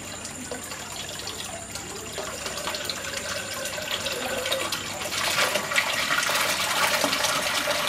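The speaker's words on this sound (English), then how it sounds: "that's the siphon starting" A 25 mm aquaponics bell siphon kicks in, steady water trickle building into a louder gushing flush roughly midway through and continuing strongly to the end.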